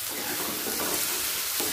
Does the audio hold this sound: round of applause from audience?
no